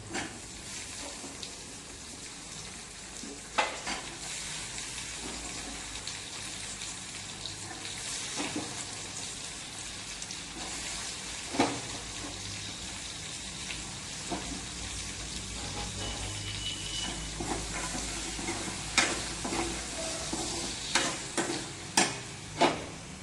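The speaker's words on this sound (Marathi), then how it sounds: "आता आपण ह्यात हे जे बटाटा आणि वरण्याचं दाणं आहेत ते घालून घेऊया" Potatoes and field bean seeds fry in a pan of oil, giving a steady hiss with occasional clatters and scrapes as the pieces are stirred close by.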